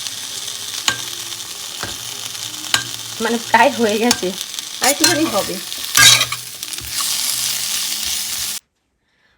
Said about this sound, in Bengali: লোহার কড়াইয়ে ভাজা করছি আমি শিম দিয়ে আলু ভাজা